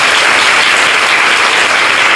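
Steady, dense clapping from a congregation at a communal worship gathering, continuous and loud for the whole stretch with no voices over it.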